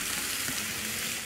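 Shish tawook chicken frying in a pan is stirred, giving a brief burst of dense steady sizzling with soft scraping underneath, close up and with no talking.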